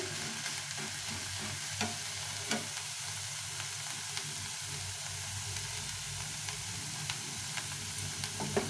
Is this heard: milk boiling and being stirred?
yes